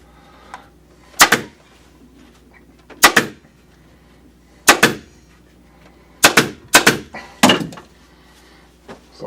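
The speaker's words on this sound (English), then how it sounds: "Staple, and then you can go back and staple your pleats down" A staple gun fires into upholstery fabric pleats on a club chair, giving sharp close snaps: two single shots, then a quick cluster of three and two more, with quiet gaps between.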